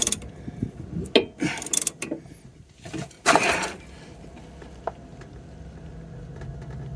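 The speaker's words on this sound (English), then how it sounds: "I'm going to go the old-fashioned route. Get an old ratchet on there instead." Ratchet wrench working a sway bar link on a Scion tC, a few loud clicking and clunking bursts of metal turning, then a quieter stretch with faint mechanical noise.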